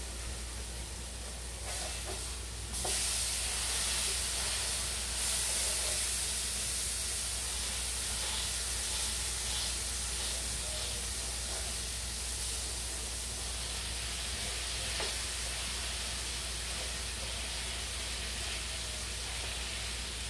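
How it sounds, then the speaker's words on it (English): Steady hissing sizzle of homemade fries frying in hot oil, constant and close, with faint crackles throughout. "And fries is frying."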